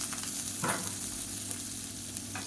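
Onion sautés in a pan for millet kozhukattai, a steady close sizzle and crackle of frying with a brief stirring scrape, no voices.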